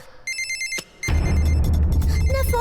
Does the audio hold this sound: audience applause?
no